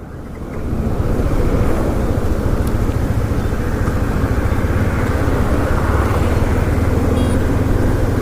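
Steady broadband rush of road and wind noise inside a moving vehicle, constant and loud throughout after a quieter first second, with no talking.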